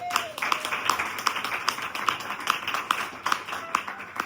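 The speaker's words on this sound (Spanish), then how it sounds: "dar un fuerte aplauso al Señor en esta tarde." Church congregation applauding during an afternoon service, a thin, sparse patter of hand claps with a few sharper individual claps standing out, fairly distant and steady throughout.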